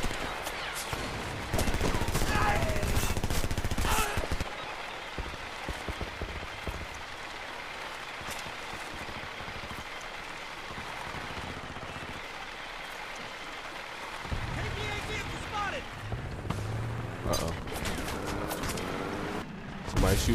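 Gunfire in the shooter Homefront during multiplayer, dense crackling bursts of automatic fire mixed with battlefield noise, loud at first and continuing in a steady rattling wash.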